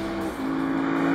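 A Lexus RC-F V8 revs hard on a racetrack, a loud, steady, sustained engine note with a strong low drone that briefly dips before climbing again.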